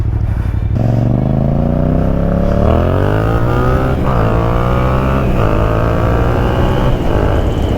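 A motorcycle rides over gravel, its engine loud and close throughout, pitch climbing through gear changes with steady mechanical drone and road noise.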